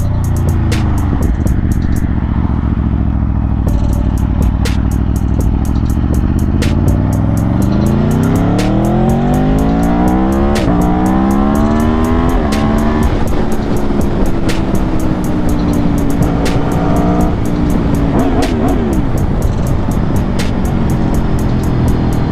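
An Aprilia V4 1100 Factory motorcycle downshifts repeatedly, its engine note swooping up and down in sharp blips and revs, loud and close over continuous road and wind noise.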